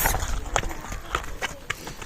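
Hooves of heavy draft horses clopping on a hard surface in an uneven walking rhythm, close by, with some background noise and movement around them.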